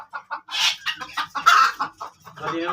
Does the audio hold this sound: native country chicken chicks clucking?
yes